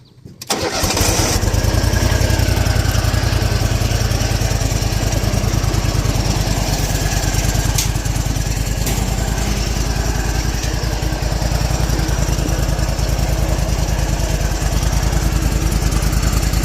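Riding lawn mower with hydrostatic drive starts up and then runs loud and close at a steady engine drone, a constant mechanical roar filling the whole stretch with no pauses.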